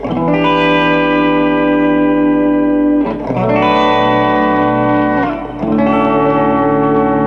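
Sustained electric guitar chords ring out with a long, washy reverb tail, three strums each blooming and hanging in the air, no voices.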